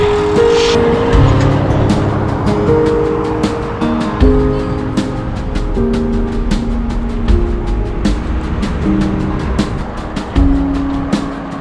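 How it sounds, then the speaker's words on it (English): Steady, loud road noise from motorway traffic passing nearby beside a cycle path under the motorway, a continuous engine and tyre roar with repeated vehicle whooshes and no talk. "at least it keeps you away from the traffic"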